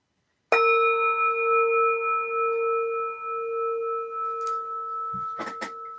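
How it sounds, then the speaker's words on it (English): A meditation bell is struck once and rings out clearly, its steady tone lingering and slowly fading, with a few faint rustles near the end. "I'll invite the bell."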